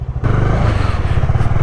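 A motorcycle rides along a road near Pokhara, its engine a close, loud, steady rumble with a throbbing low pulse, mixed with wind rush and no talking.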